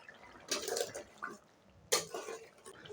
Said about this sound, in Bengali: 5 মিনিট হয়ে গেছে আর এখন আমি ঢাকনা খুলে দেব।